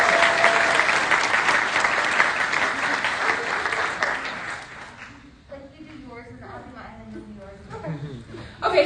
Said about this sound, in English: So can I just have one more round of applause?